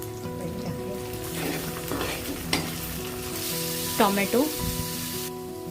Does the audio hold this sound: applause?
no